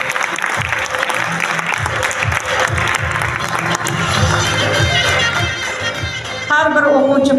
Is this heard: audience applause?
yes